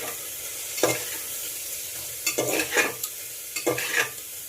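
Spiced tomato masala with turmeric sautéing in a pan over low-to-medium gas, a soft steady sizzle broken by three distinct scraping bursts of stirring, close and moderately loud.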